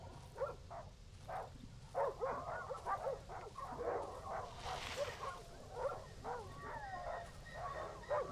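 A pack of dogs in the survival horror game Darkwood barks and yelps repeatedly in uneven bursts, fairly close and loud, over a continuous low background drone.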